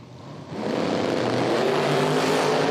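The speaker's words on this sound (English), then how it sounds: "Supercharged Corvette." A supercharged Corvette at an IHRA drag racing event lets out a loud, sustained engine roar that swells sharply after half a second and holds steady and close to the end.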